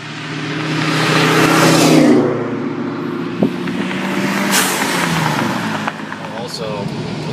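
A 1993 right-hand-drive Toyota Supra with a manual gearbox is driven and accelerates, its engine droning and rising in pitch, easing off and building again, with a brief clunk midway and a voice talking over the engine.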